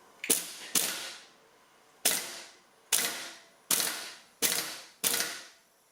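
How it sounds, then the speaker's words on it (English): A motorcycle sprocket is worked with a clutch holding tool on an RZ350 engine. Seven sharp metallic clacks ring out close and loud at uneven intervals, each fading quickly. No voices are heard. "I don't know if I've ever used a clutch holding tool on a sprocket, but I'm going to give it a try"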